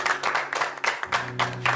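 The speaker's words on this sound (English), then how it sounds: "A round of applause for them" Studio audience at a Nigerian accountancy quiz show applauds Crawford University of Igbesa, Ogun State, with a few loose bursts of clapping that rise and fall over a steady low hum.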